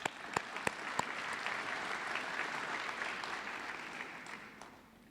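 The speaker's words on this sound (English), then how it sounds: "So, round of applause for that." A graduation audience claps steadily for about five seconds, a dense sustained wash of many hands with a few sharp louder claps near the start, fading slightly toward the end, with no voices over it.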